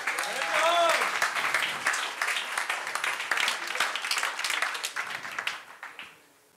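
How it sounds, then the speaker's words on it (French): Audience applause at an evening company event, loud and dense clapping that rises, holds with cheering voices, then fades away toward the end. "On t'applaudit très fort, s'il te plaît."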